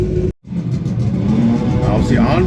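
A front-wheel-drive doorslammer drag car at a European eliminations meet holds a steady, loud, buzzy engine drone at the start line after a brief cut, its tone wavering slightly near the end, with a commentator's voice over it.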